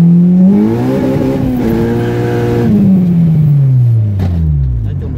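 An EG Civic with a K20A2 engine swap accelerating hard, its engine note climbing through the revs, easing, then climbing again, loud and close.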